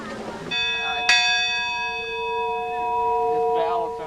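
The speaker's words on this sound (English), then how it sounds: "this bell is from 1902 that they brought back up here" An old 1902 pulley-operated bell is struck once, loud and near, its bright metallic tone ringing on and decaying slowly, preceded by a brief voice.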